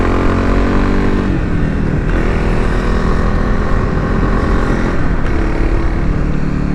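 Kawasaki KLX300SM supermoto motorcycle riding along a road, a loud steady engine drone with gear-change shifts in pitch, close and continuous with no talking.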